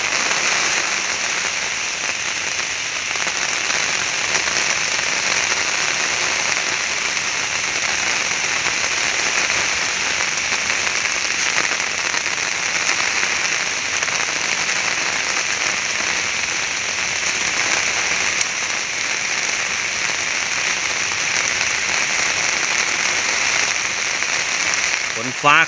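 Heavy rain pours steadily through an April storm over a chili field, a dense, constant hiss with no let-up from start to finish, close and loud.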